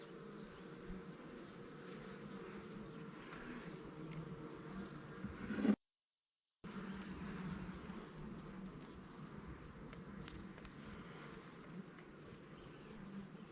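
Honeybees drone in a steady, soft hum around a frame lifted from the hive during a colony inspection, with a brief dropout partway through and faint background noise.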